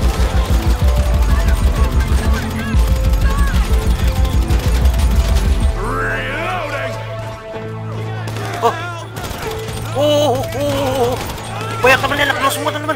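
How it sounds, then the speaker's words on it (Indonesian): Enemy gunfire in a GTA 5 zombie survival game: rapid loud bursts of shots with heavy low thumps early on, then scattered shots, clanks and impacts over a tonal game background, with voices in the mix. "Oh, dia nembakin gua."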